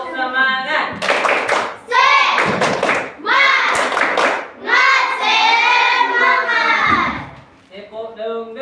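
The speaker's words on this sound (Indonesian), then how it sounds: "semuanya tepuk semangat." Students in a classroom perform a rhythmic spirit clap routine, chanting loudly together in short bursts punctuated by sharp group claps and thumps, ending with a brief quieter phrase.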